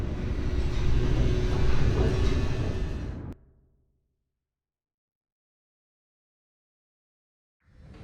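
Rushing rumble of an elevator racing downward in The Stanley Parable, a loud steady roar for a few seconds that cuts off abruptly into silence, then a faint sound returns at the very end.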